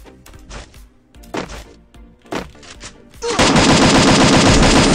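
Rapid gunfire in a PC video game: a few isolated loud shots, then a sustained, dense burst of automatic fire filling the second half, close and loud.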